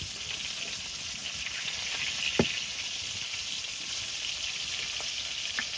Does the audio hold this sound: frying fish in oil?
yes